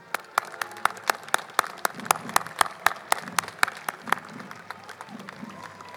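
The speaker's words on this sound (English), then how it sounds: "Another round of applause." A street crowd at an Armed Forces Day parade in Torrance claps steadily, the sharp, evenly spaced claps standing out over a low murmur of bystanders.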